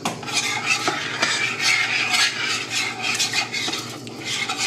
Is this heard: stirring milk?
yes